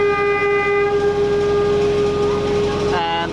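Tram pulling away from a station bound for Cascades, a loud sustained horn-like tone with steady harmonics riding over rail rumble and wheel clatter, the pitch shifting near the end as it moves off.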